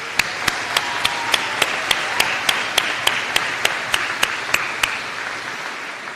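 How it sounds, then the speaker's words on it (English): Steady audience applause at a Duke Nicholas School professional student recognition ceremony for graduating distance-learning students, with one loud nearby clapper striking a regular beat over the crowd's continuous clapping. "A special round of applause for them."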